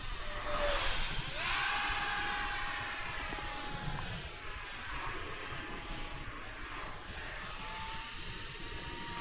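FA-XX RC jet flying at 40% throttle, a sustained high-pitched turbine whine sweeping past and fading as it moves away, moderately loud and with no voices.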